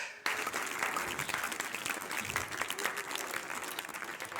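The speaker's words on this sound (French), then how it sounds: "on peut venir s'applaudir" A small group applauding themselves after a teep kick training session, steady close clapping that begins abruptly and carries on evenly to the end.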